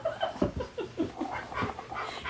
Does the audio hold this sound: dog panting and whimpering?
yes